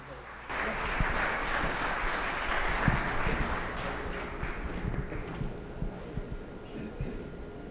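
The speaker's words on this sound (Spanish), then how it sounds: "Démosles un fuerte aplauso a nuestro ponente" Steady applause from a sizable crowd welcoming a speaker at a labor law lecture fills the room, a dense patter of clapping that continues without a break.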